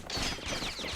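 Musket shots in the video game Bastion fire as a quick burst of sharp gunfire, loud and close, with no talking.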